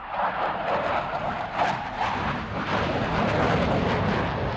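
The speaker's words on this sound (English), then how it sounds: "This coming up pass is designed to show you the remarkable maneuverability and slow speed nose authority of the Hornet." A CF-18 Hornet fighter jet roars through a demonstration pass, a loud continuous broadband jet rumble sustained throughout with slight swells in intensity, heard alone without voices.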